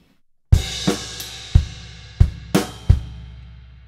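Drum kit playing one syncopated bar with a ride bell: six sharp accented hits with ringing cymbal and low drum thumps in an uneven rhythm, close and loud with no talk.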